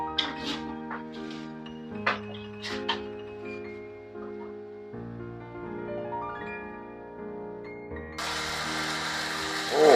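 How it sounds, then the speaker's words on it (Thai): Roasted dried red chillies going into a blender, which starts abruptly near the end with a loud, rough grinding roar after a long stretch of music. "พริกนำมาปั่นครับ"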